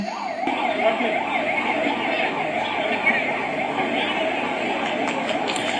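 An ambulance siren wails in a steady, rising-and-falling cycle at a crowded outdoor political rally, moderately loud and continuous, with crowd noise and voices mixed beneath it.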